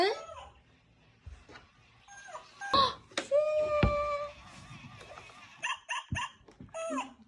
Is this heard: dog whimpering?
yes